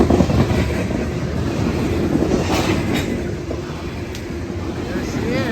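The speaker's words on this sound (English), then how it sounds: "Time to catch a train." A train rumbles past close by, a heavy steady roar with rattling wheels and occasional metallic squeals.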